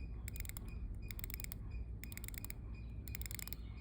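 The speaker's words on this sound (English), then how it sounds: "The bezel has a beautiful 120 clicks movement. I don't know if you can hear that, those clicks." Seiko SRP309 Orange Monster dive watch with a 120-click unidirectional bezel, turned in several short bursts of fine, crisp ratcheting clicks close to the microphone, with brief quiet gaps between turns.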